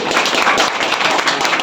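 Dense applause fills the hall at a dance class opening event in Jaunpur, many hands clapping at once in a steady, loud wash that carries without a break.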